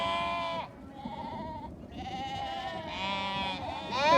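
Lambs bleating in a pen at weaning time, several loud, wavering calls overlapping close by with little pause between them.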